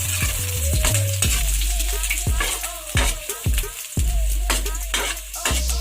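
Garlic and ginger sizzle in a hot pan while a utensil stirs and scrapes them in quick repeated strokes, close and clear, for a homemade chicken dish.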